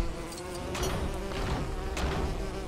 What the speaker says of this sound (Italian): L'ape birichina.